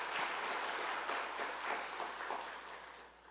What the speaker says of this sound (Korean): 우리 한번 큰 박수 보내드리겠습니다.